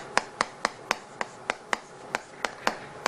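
Single person clapping hands at a steady, even pace, about a dozen sharp claps in three seconds, close and fairly quiet with no voices.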